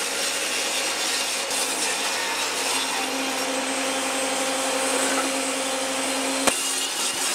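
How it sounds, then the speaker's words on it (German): Wooden side panels being cut at a 45 degree angle for a small corner cabinet, a steady, loud sawing drone held evenly throughout with one sharp click near the end. "Und hier schneiden wir jetzt die beiden Seitenteile ab mit dem 45 Grad Winkel als senkrechte."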